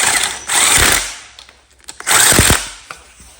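Bolts on a 1979–1981 Honda XL500 cylinder head are snugged down with a ratchet, giving two close bursts of rapid clicking separated by short knocks and a quiet pause.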